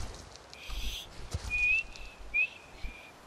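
Whistling to call a horse in Skyrim, a few short high-pitched whistles with a quick rising note, clear and close over quiet game ambience.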